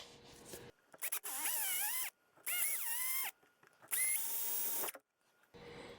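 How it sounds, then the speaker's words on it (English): A power drill whirs in three sustained bursts, its pitch rising and dipping as it bites, separated by brief pauses. "I'm not trying to drill a large hole all at once"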